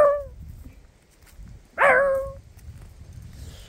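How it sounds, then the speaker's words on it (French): A fox barks in the middle of the night at close range, sounding as one sharp, wavering call preceded by a shorter, fainter yelp over a quiet outdoor background. "il y a un renard qui est venu aboyer à côté de nous, mais vraiment en pleine nuit"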